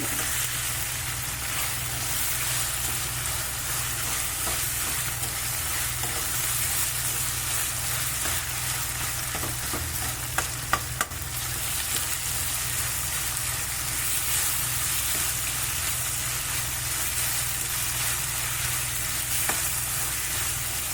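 Onions fry in a pan for a chickpea curry, giving a steady close sizzle throughout with occasional light scraping clicks as they are stirred, and no voices.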